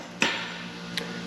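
A hammer strikes twice to drive out a Morse taper drill bit, giving two sharp metallic blows less than a second apart in an otherwise quiet space.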